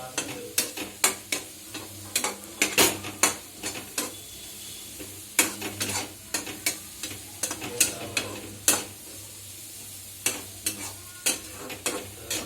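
Tomatoes frying in a pan for tomato pasta, stirred with a utensil that knocks and scrapes the pan in repeated sharp strokes over a steady low sizzle, close up and with no talk.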